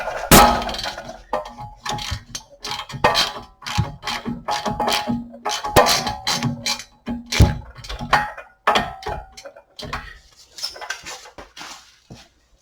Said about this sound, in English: Just crack that nut loose.